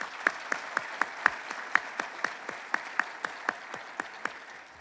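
An audience at a congressional representative's update applauds two departing speakers; sparse, rhythmic clapping with distinct individual claps in a steady beat, fairly close and moderate in level.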